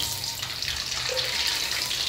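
Water draining out of a pan while jengkol is being cooked, a steady close rushing splash that runs continuously throughout with no pauses and no voices.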